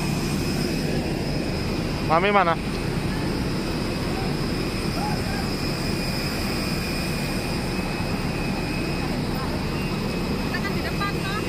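Airplane engines at an airport drone steadily throughout, a constant broadband rumble with a thin high whine, while family members talk over it.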